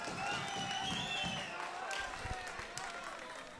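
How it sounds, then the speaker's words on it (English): A crowd roars and cheers at an international fighting tournament, a broad sustained swell of voices with scattered shouts and clapping, with commentary over the top. "The crowd comes alive with that one."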